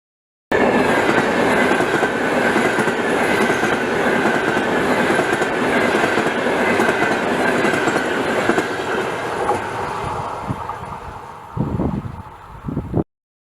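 High-speed trains rumble through a Chinese railway station, a dense continuous roar with rail clatter that fades and breaks into scattered clanks near the end.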